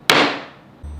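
The pointed spike of a hand-forged Viking axe drives into an object with a single sharp, loud, close impact and a short ringing decay.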